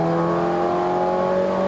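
Toyota MR-S sports car accelerating hard in fourth gear, a loud, close, steady engine drone with a rising whine and no talk over it.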